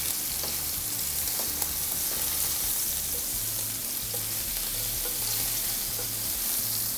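A loud, steady sizzle of thin steak frying over high heat in a hot pan, crackling continuously throughout with no voices.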